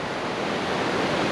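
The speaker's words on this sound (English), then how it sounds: "With the river rushing in the background, it's a little loud" A river rushes through a canyon in Wyoming, a loud, steady, close roar of churning water with no breaks or voices.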